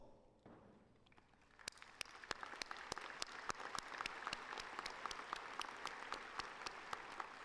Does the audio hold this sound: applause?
yes